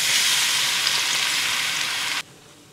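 Leunca berries stir-frying in a pan give a loud, steady broadband sizzle that runs for about two seconds, then cuts off abruptly to quiet, as if the pan is lifted from the heat.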